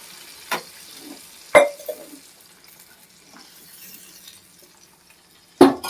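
A spatula scrapes and knocks through a brinjal and dried prawn curry being stirred in a pan, a few sharp clanks standing out over a soft, quiet bubbling.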